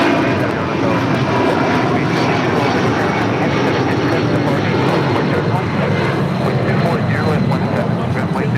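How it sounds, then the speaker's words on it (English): A United Airlines Boeing 777-200 arriving at Los Angeles International Airport from Newark, its loud, steady jet engine roar filling the whole stretch. People can be heard talking under the engine noise. "This is United Airlines Flight 2226 coming in from Newark on this 777-200."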